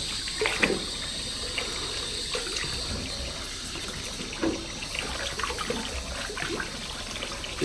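Water runs and trickles steadily into a sink with faint clinks and splashes nearby as it is added to Toppik hair fibers, a continuous wash without any voices.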